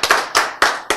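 Hands clap in a lecture hall at a health talk, four sharp, loud claps in quick succession, close and with no other sound.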